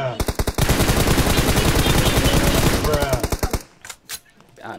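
Rapid automatic gunfire from a battle royale video game, loud dense bursts roaring almost without break for several seconds, then tapering into a few scattered shots.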